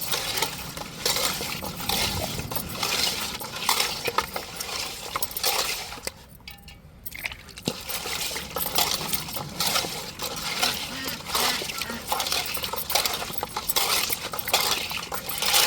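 Fish being scrubbed with coarse rock salt in a pot, a steady gritty rattling and clinking of salt grains and fish against the vessel, close and continuous, with a brief pause partway through.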